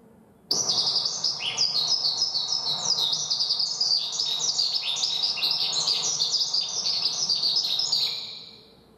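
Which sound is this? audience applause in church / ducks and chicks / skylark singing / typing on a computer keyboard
skylark singing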